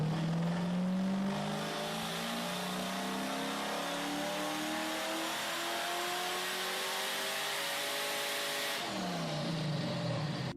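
A rebuilt Mazda RX-7 rotary engine on a dyno revs in one long steady pull, its pitch climbing smoothly for about nine seconds before it drops off sharply, loud and close with no talking.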